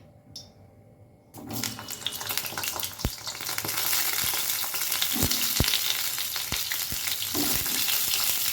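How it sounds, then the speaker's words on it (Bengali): Pointed gourd pieces go into hot white oil in a wok and burst into a loud, dense sizzle that builds and holds, with a few sharp clinks of the pieces landing. "তেলও গরম হয়ে গেছে। এবার আমি পটলগুলো একে একে দিয়ে দেবো এর মধ্যে।"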